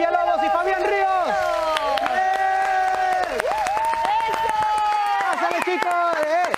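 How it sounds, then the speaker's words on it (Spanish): A television studio audience on Titulares y Más claps and cheers to welcome the actors Carmen Villalobos and Fabián Ríos. The applause is dense but mostly buried under loud, excited voices that shout and talk over it throughout. "Amigos, fuerte el aplauso porque están aquí de Sin Senos y el Paraíso"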